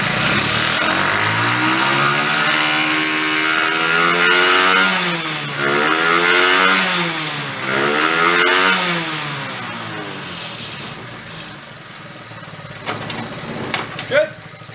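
A small vintage Honda dual sport motorcycle, about 50 years old, revs loudly up close as it accelerates through the gears. Its engine note climbs and drops with each shift before easing back toward a lower, steadier run with a few light clicks.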